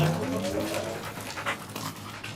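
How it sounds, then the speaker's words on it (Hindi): A dog pants quickly and steadily, close and fairly loud, with brief whimpering tones near the start. "कोई कुत्ता आ गया इधर"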